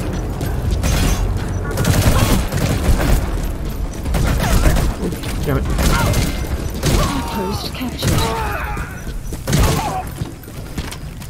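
Loud unsuppressed gunfire from a shooter video game, dense bursts and booming shots repeating throughout, close and heavy, with occasional impacts.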